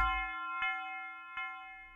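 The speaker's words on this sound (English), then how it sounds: "I got the tubular bell and I basically just laid one note down" A single bright, metallic tubular bell note, root C, from music software, sustains and rings out dry, with a couple of soft clicks and a brief knock near the end.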